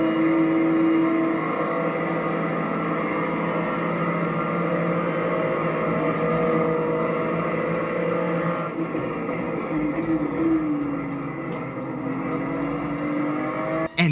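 Racing game cars, including an Aston Martin on the final lap at Bathurst, played through the built-in speakers of an LG 45-inch 5K OLED monitor: continuous engine whine rising and shifting in pitch, steady and fairly loud, with no voices.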